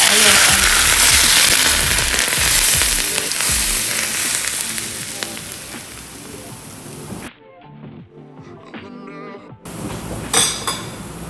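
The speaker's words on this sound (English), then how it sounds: "Now we add an extremely hot oil." Extremely hot oil poured over sambal spicy chili sauce with fermented shrimp paste, giving a loud, bright sizzling hiss that fades after several seconds, breaks off, then flares up again briefly.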